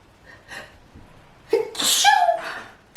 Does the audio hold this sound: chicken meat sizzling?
no